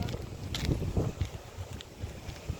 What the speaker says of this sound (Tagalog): Kaya mahangin dito.